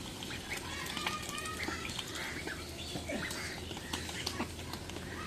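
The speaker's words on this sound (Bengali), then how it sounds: "খাক ওগুলো খাক হাঁসগুলো খাক" Ducks feeding outdoors in a rural yard, a continuous busy dabbling and chattering with scattered quacks, moderately close, with faint voices in the background.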